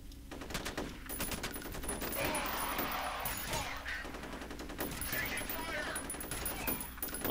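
Rapid gunfire in the shooter game F.E.A.R., repeated sharp automatic bursts with in-game ambience and effects filling the background, a player's voice talking over parts of it.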